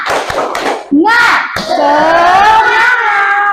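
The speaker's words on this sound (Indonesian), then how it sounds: "coba kita tepuk semangat dulu" A class doing the 'tepuk semangat' clap chant: a quick patter of clapping hands, then children loudly chanting together in a sustained, sing-song unison cry.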